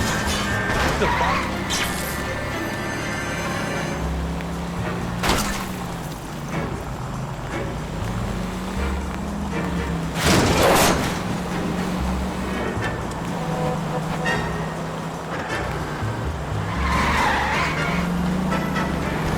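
A car speeds along in the L.A. Noire video game, its engine droning throughout while tires skid and screech in several sharp bursts, loud and close, with voices heard at points.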